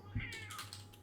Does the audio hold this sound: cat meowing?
yes